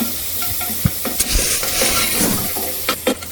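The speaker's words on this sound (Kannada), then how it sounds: "ಈರುಳ್ಳಿ ಎಲ್ಲ ಚೆನ್ನಾಗಿ ಫ್ರೈ ಆದಮೇಲೆ" Onions and chillies frying in a pan for pulao, a steady close sizzle punctuated by the scrape and clack of a spoon stirring against the pan.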